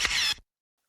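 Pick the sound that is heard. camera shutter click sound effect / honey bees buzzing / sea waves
camera shutter click sound effect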